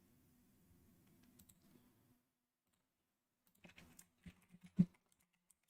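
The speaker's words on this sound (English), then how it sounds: "Sorry if you hear me typing." Soft, faint computer keyboard typing during a live stock market stream comes in scattered bursts of clicks, with a pause in the middle and a few sharper keystrokes near the end.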